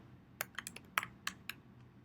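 Light, scattered keystrokes tap on a computer keyboard while HTML is written, about eight crisp clicks at an uneven pace, close but quiet, with no voices.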